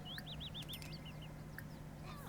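Rooster and chickens in The Sims 4 give a string of short rising clucks and chirps at moderate distance, over a steady background hum of game ambience with no speech.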